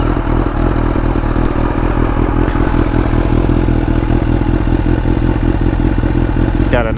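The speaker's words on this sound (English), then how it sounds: "you guys probably want to see what it sounds like, right? A little before and after on the exhaust note" A Honda CB1000R motorcycle idling close by, its exhaust note a steady, even, rapid rumbling pulse with a faint clattering edge, unchanging throughout with a brief blip at the very end.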